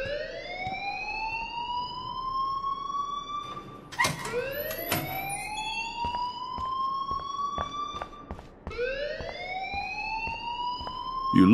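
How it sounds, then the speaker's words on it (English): A school alarm in the video game Life is Strange rings as a loud, rising electronic whoop that repeats in long sweeps, broken by a few sharp clicks and taps, with no talking over it. "please turn off that alarm since that's your job"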